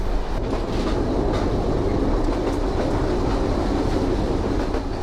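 The Ruposhi Bangla Express train rumbles along the tracks at close range arriving at Benapole, a loud continuous roar with faint rhythmic clatter and no voices.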